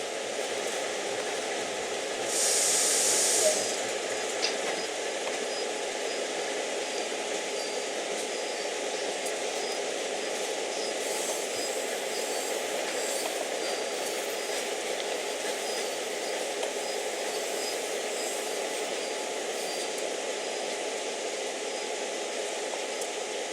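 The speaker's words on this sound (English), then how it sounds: "Move the auto brake to initial reduction." CSX heavy haul freight train braking in Train Sim World: a steady broadband rumble and hiss of rolling railcars with faint metallic squeal, continuous and even throughout, no talking.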